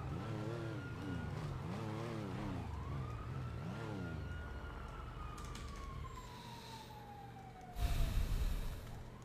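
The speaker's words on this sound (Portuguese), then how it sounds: "A viatura não passou aí na frente?" Police car siren from a Brazilian video game, its wailing tone sweeping up and down and then passing with a long falling pitch over steady car engine noise, with a loud burst near the end.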